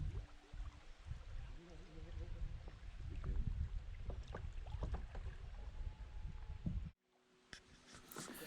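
Oars work a boat on the Pine River in Michigan, with low splashes and the creak and knock of rowing, then a brief drop to quiet near the end before faint sounds return.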